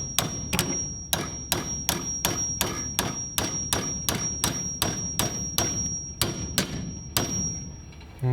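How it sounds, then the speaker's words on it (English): A hammer pounds on a Jeep Cherokee door hinge clamped tight in a vise, about sixteen sharp metallic blows in a steady, even rhythm, loud and close, with no voices. "now you should be able to pound this hinge out"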